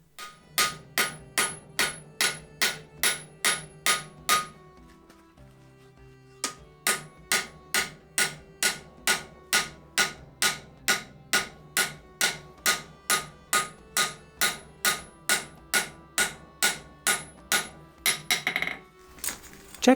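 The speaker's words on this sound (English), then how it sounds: "I start to forge in the bevels because then I don't need to grind away so much material." A hammer forges the bevels into a pattern-welded, herringbone-layered scouting knife blade with steady, ringing metallic strikes at a fast, even rhythm. The blows pause briefly early on, then resume in a long regular run, close and loud.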